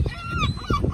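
Hungry geese or similar fowl honking as they wait to be fed, a quick burst of several close nasal honks, with a faint human voice mixed in.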